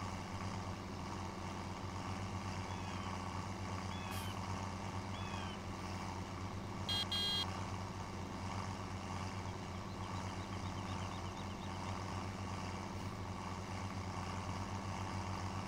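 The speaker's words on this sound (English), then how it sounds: "Making the tractor suspension work hard though," A tractor engine drones steadily as it drives over a rough field entrance, a constant low rumble with a brief clatter partway through and no talk.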